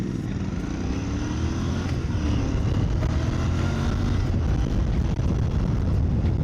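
Royal Enfield Bear 650 scrambler with its 650 twin engine, riding along with a steady loud low rumble and rising pitch sweeps under heavy wind buffeting on the microphone.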